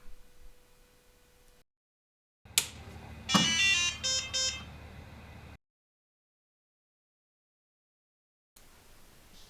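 A TooCaa L2 diode laser engraver powers up with a short burst of electronic beeps and whirring over a low hum, set between stretches of near silence, with no talking.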